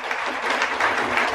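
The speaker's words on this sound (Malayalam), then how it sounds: "കൈയടിക്ക്." A crowd of audience members at a business seminar applauds steadily, a dense clatter of clapping hands that holds for a moment without any speech over it.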